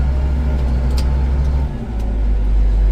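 A farm vehicle's engine runs during a soybean harvest, a loud steady low rumble that briefly dips and shifts pitch partway through as it downshifts, with no talk over it.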